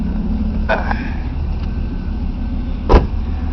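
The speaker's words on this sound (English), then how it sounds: "Now you got your car running, you got your AC on full blast." A car engine idles with the air conditioning running on full blast, making a steady, close low hum and fan rush. One soft thump sounds near the end.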